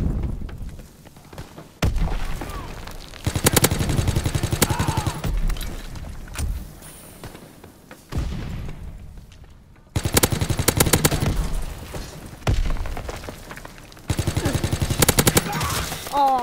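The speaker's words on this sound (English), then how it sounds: "Throwing stun grenade!" Game gunfire from a PS4 shooter comes in loud bursts of rapid automatic shots with booming thuds, broken by short lulls; a stun grenade goes off amid the firing.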